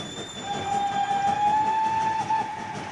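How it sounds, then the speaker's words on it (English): A cartoon's magical disco train sounds a long, steady whistle-like tone over a continuous rolling rumble, rising slightly and then cutting off near the end, with no talking. "Maddie, we seem to be on board some kind of a train. And not just any old train. It's my magical disco train"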